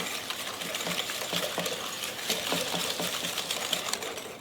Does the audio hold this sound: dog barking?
no